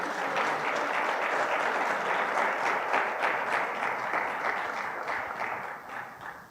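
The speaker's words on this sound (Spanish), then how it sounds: "Denle un aplauso a Cristo" A church congregation gives sustained, dense applause, loud and close, holding steady before gradually fading toward the end.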